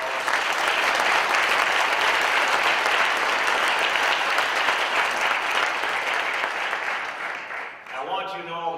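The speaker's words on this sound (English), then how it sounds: "Let's give them all a round of applause." A crowd at an interfaith breakfast in a New York public library applauds elected officials with sustained, dense clapping, and a voice starts talking as it tapers off at the end.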